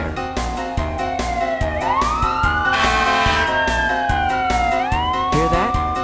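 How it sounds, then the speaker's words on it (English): A fire engine siren wails loudly and close, its rising and falling tones sweeping over a steady background of traffic, with no voices. "That's a fire engine rushing to put out a fire."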